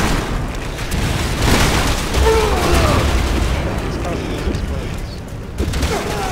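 A flashbang grenade explodes in Resident Evil 6, during the aircraft carrier bridge fight. Booming blasts and rapid gunfire form a dense, loud, continuous wall of noise, with a voice mixed in.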